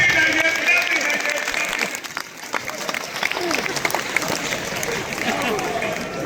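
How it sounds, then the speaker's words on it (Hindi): An audience at a poetry gathering keeps up loud applause, a dense mix of hands that dips briefly and then swells again, with a voice speaking over it now and then. "आप लोग जोरदार तालियां बजाते जाइए, बजाते जाइए।"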